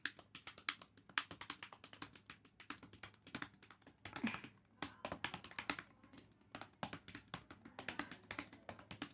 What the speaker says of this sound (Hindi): सबसे पहले मैं 1 मिनट के हिसाब से मैं 50 वर्ड्स टाइप कर लेता हूँ यहाँ पे